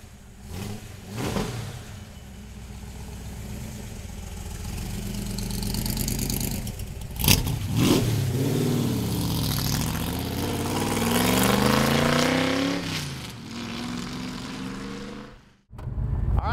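A 1965 Shelby Cobra roadster engine revving on a ride, a loud, close drone rising and falling through several throttle swells and gear changes, with a sharp blip midway and no talk.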